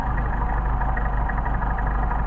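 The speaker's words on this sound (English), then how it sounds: "We'll do a restart on a hot engine." A hot Porsche 930 engine idles after a restart, an even, continuous rumble with a slight rhythmic pulse, close and fairly loud throughout.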